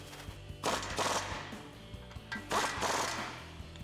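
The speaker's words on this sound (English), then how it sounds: "we're going to use a 19mm socket with an impact" An impact wrench with a 19mm socket tightens the control arm bolts on a Tacoma front suspension, giving two short, rattling hammer bursts at moderate distance separated by a quieter pause.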